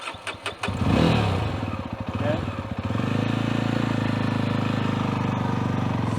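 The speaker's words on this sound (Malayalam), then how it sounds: "ഞാൻ നേരത്തെ പറഞ്ഞ പോലെ തന്നെ ക്ലച്ച് അപ്ലൈ ചെയ്തിട്ട് സ്റ്റാർട്ട് ചെയ്യണം" A Jawa 42 Dual Tone motorcycle is started with the clutch applied. Sharp cranking bursts and a rising churn lead to the engine catching, then it settles into a steady, close, pulsing idle.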